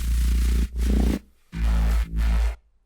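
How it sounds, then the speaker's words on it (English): Heavy, gritty bass guitar plays alone in two loud bursts of low notes, separated by a short gap and ending in silence. "the bass in this kind of section sounds like this"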